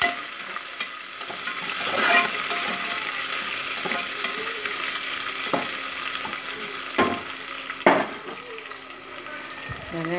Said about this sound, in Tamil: வெங்காயம் போட்டு நல்லா வதங்கட்டும்